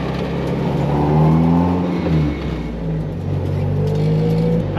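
A Toyota AE86 with a BEAMS 3SGE engine drives at steady, moderate revs, its engine drone and gearbox whine holding continuously up close with gentle rises and dips in pitch.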